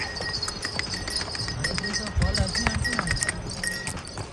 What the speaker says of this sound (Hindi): ये देखें घोड़ों पे अभी लोग जा रहे हैं, ज़्यादातर लोग घोड़ों पे ही जा रहे हैं।